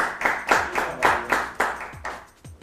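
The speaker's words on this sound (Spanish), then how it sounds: "Un aplauso para la gráfica, por favor" About eight loud, separate claps beat out a slow, even rhythm at a tech show event, each one ringing briefly in a reverberant room before the next.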